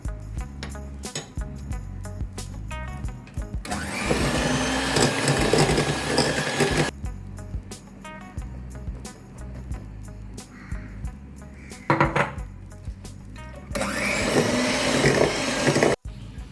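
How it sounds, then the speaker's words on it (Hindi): An electric beater whirs in two loud bursts while flour mixture is added to cake rusk batter, with quieter clatter and pauses between the runs. "स्लोली इसको अपने मिक्सचर में डालते रहेंगे और साथ साथ हम बीट करते रहेंगे।"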